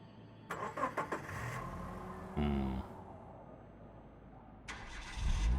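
Car engine starting in the survival game Surviving the Aftermath: clicks and rattles build into a short cranking burst that catches, followed by a low idle and a second rise near the end.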